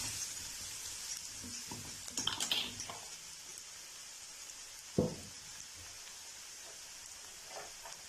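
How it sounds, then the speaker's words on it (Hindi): Chopped garlic fries in hot oil with a steady, close sizzle. A few stirring scrapes come in the first seconds and a single knock follows midway, with no one speaking. "अब डालेंगे 1 चम्मच बड़ी भर कर जो है वो चॉप किया हुआ लहसुन।"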